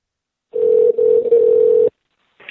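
A telephone dial tone heard close and clear as a call is being made, a steady loud hum lasting about a second and a half with a brief dip partway through, then a short burst of another sound after it stops.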